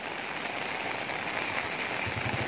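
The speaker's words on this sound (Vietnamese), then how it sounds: "Và trời vẫn tiếp tục mưa các bác nha." Steady rain falls during a typhoon-driven storm in a mountainous area hit by landslides, a dense, even wash of drops that continues without pause throughout.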